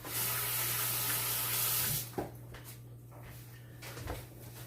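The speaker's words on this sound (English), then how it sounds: "wash your hands." Tap water runs steadily in a kitchen sink for about two seconds while hands are washed, then shuts off, leaving faint clatter and quiet room sounds.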